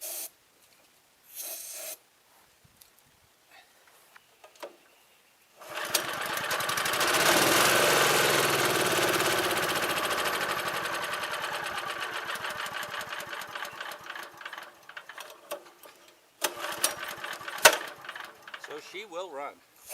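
An abandoned wood chipper's small engine, given brake clean spray, fires after a few short bursts and rattles loudly for about ten seconds, chugging and knocking before sputtering out, with a brief restart after it.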